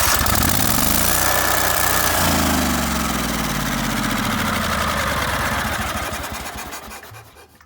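Automatic generator engine converted to run on propane (LPG), a steady loud idling drone with a lower throb that shifts early on and then fades toward the end.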